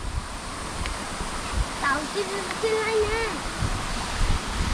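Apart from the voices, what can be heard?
hidden waterfall in Zirad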